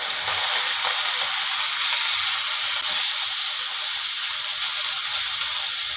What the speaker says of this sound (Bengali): এবারে আমি এগুলোকে ভালো করে ভাজবো। এবারে আমি মাছগুলো ছেড়ে দিলাম।